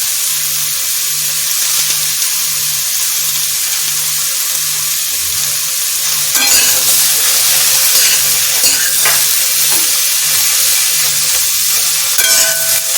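Chopped onions and a green chili fry in a pan for a Bengali ridge gourd and potato posto, giving a steady close sizzle with stirring scrapes and louder clatter in the second half.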